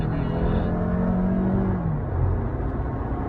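A remapped Toyota Camry 2.5 D4S engine revs under throttle, its tone climbing and then falling away. The sound is loud and close.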